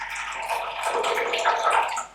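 Raw pu-erh tea poured from a height out of a small gaiwan into a cup, a steady splashing trickle of hot liquid heard close, with no talk.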